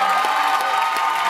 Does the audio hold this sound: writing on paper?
no